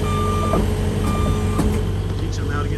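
A tracked machine on a beach seawall and dock job drives out with a rumbling engine, while repeated reversing beeps ring out over the steady mechanical drone at close range.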